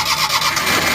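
A car engine cranking on its self-starter during a misfire check, with the injector grip being removed, giving a continuous loud whirring churn through the whole moment with no voices.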